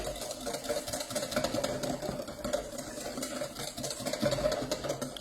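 A whisk beats hollandaise sauce in a bowl over heat as butter is added, giving a steady, close, rhythmic scraping and swishing that runs unbroken throughout.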